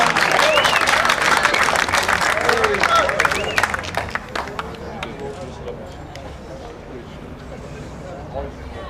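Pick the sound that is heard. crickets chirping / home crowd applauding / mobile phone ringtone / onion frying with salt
home crowd applauding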